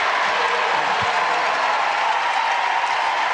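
A large arena crowd at a Duke women's basketball game against Wake Forest roars and applauds after a layup and foul, a loud, dense, steady wash of cheering and clapping lasting the whole moment.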